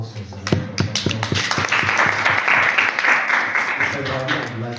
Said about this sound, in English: Let's give Moses a round of applause.